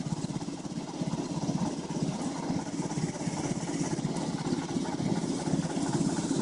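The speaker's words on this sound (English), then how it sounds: "Kind of happy the engine is still running." A sailboat's engine idles steadily, a continuous low mechanical rumble with an even pulsing chug that holds at a constant level throughout, with no voices.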